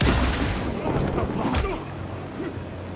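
Shotgun blasts in the survival horror game Alan Wake 2, a few heavy booming shots in quick succession amid a cornered fight, with a voice talking over the action.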